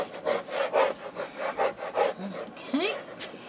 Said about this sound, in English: pushing them down so that they are nice and level, and then burnish that down